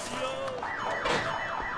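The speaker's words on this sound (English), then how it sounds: "Why would this have an alarm?" A car alarm blares in the Sleeping Dogs video game, a rapid repeating whooping tone cycling over and over, moderately loud over a hissy background.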